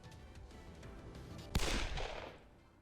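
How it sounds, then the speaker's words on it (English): Gunshot in the Hakuoki visual novel game: one sharp crack over a quiet music bed, its echo fading over about a second. "all of a sudden a gunshot went off"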